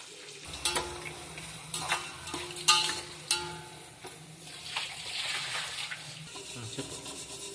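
Onions sliced thin and lengthwise, along with green chillies, frying and being stirred in a pan for a chicken pulao, giving a steady sizzle broken by scraping stir strokes, with some background noise.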